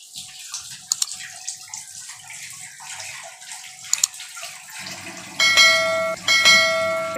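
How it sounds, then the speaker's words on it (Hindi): Hands are washed under running water during village-style mutton curry cooking. After a quiet start with a couple of sharp clinks, the water gushes loudly and steadily in the second half, close by. "मु ता भीतर मो निज हाथ धोई नउची"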